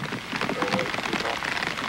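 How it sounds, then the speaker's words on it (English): Steady rain patters across a surface, a dense hiss of drops falling continuously at moderate volume with no voices. "It started a pretty good rain shower."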